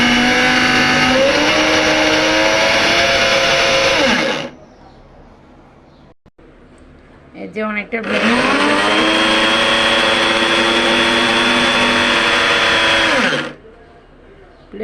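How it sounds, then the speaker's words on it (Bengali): A blender whirs through homemade sherbet in two long, loud motor bursts separated by a quiet pause, with brief talking in between. "ব্লেন্ডার মেশিন একটু দিয়ে দিয়ে অফ করে করে ইউজ করতে হয়"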